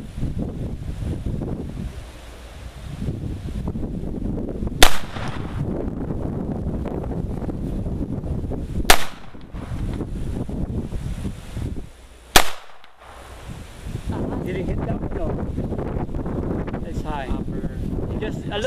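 Three sharp, widely spaced gunshots from a Beretta Neos pistol fired at an outdoor target, each a loud crack over steady wind noise, with people talking throughout.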